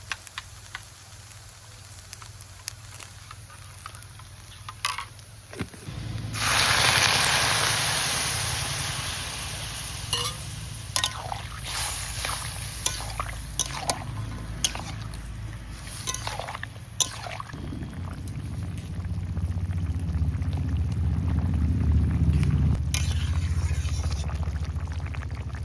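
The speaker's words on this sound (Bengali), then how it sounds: "এই যে ঝোলটা দেওয়ার পরে জাল উঠে গেছে" Vegetable curry with powdered milk hisses and bubbles in a pan, beginning with faint crackle, then a loud steady sizzle that keeps going with small pops and later settles into a lower, fuller bubbling boil.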